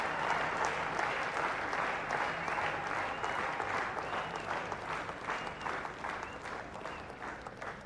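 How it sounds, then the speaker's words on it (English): A crowd at the India vs Sri Lanka Test in Colombo applauds continuously from a distance, a dense, even clapping that slowly fades toward the end, with no talk over it. "So the crowd really backing up uh, Russell Arnold"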